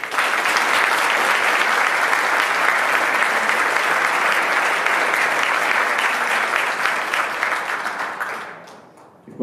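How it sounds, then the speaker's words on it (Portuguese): A large audience applauds filmmakers at a geopolitics lecture in steady, dense clapping that holds for most of the stretch, then fades out near the end. "é uma salva de palmas para esses realizadores que eu citei"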